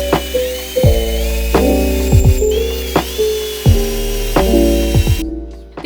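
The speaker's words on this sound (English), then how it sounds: "It clamps onto a piece of wood and easily allows you to drill diagonal holes into the board." A drill bores diagonal pocket holes into a wooden board held in a Kreg jig, with several separate bursts of whirring each winding down with the bit, alone and close by.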